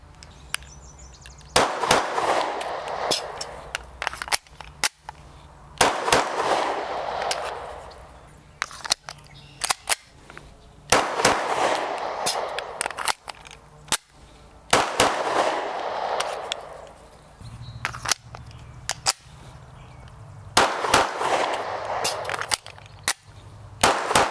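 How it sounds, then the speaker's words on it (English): Taurus G3 full-size polymer-frame 9mm pistol fired in a series of sharp, loud gunshots, several per string with pauses between strings, each shot followed by a short ringing decay outdoors. "seems like a pretty good shooting gun. All right, guys, there it is, the Taurus G3"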